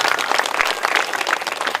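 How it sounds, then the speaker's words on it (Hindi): Audience applause at a Bhagavat Katha religious gathering in Najafgarh, Delhi: dense, steady clapping from a large crowd, loud and continuous for the whole short stretch. "इसमें भी तालियों की गड़गड़ाहट के बीच में।"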